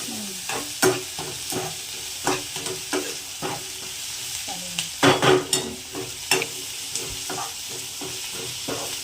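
Chopped onion sizzles in hot oil while being stirred in a pan for upma tempering, with steady frying hiss and repeated scraping, clacking strokes of a spoon, close and fairly loud, no voices.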